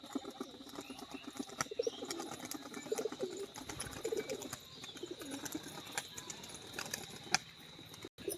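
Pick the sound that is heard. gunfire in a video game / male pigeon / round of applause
male pigeon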